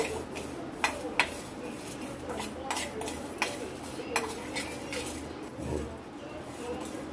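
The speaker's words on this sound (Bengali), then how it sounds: "এটা তেল ছাড়া শুকনো খোলায় ভাজবো" Fennel seeds and black pepper, with cumin, dry roasting in a pan without oil, giving a few sharp metallic clinks and scrapes of a stirring utensil over a low rustling bed, fairly close.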